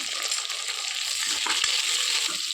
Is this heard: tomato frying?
yes